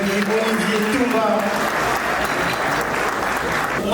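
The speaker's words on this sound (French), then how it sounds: "On applaudit très fort" An audience at a charity gala applauds with steady, dense clapping that stays loud and even from start to finish, close and continuous, with a voice briefly audible underneath.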